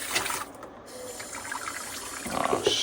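A kitchen faucet runs water into a sink, a soft, steady splash and trickle close by with small shifts in flow and a few brief clatters near the end.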